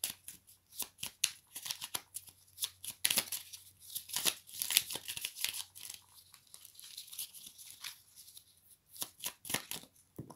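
Oracle cards shuffled by hand before one is drawn, a long run of quick, crisp riffling flicks and soft paper rustles, close and fairly quiet, with no talk.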